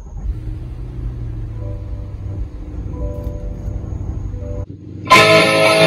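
A Corvette C8 Stingray Z51 starts up: a low idle-like rumble with faint tones gives way after a brief silence to a sudden loud, bright engine roar.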